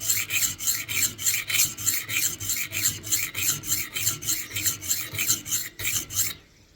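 A Winklez rolling knife sharpener grinds a knife blade on its coarse side, making a steady run of close, rhythmic rasping strokes, about three per second, before stopping abruptly.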